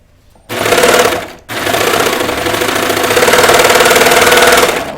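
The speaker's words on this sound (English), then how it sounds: "it's good to know the feel of the garment underneath your fingers so you can tell when the garment is kind of creeping under the presser foot" A sewing machine stitches a knit T-shirt sleeve with a loud, close, rapid mechanical rattle that breaks off briefly after the first second, then resumes and runs steadily until the end, with no voices.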